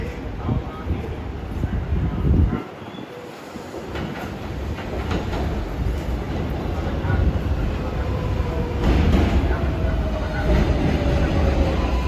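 A Flushing-bound 7 Express subway train of R188 cars rumbles into 74th Street–Broadway station with rising clatter and screech of wheels, while a platform announcement voice speaks over the noise.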